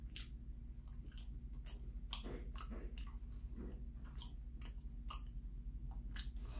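Close, soft chewing of bread with a honey-like filling, moist squishy bites and small clicks repeating irregularly over quiet room hum, no talking.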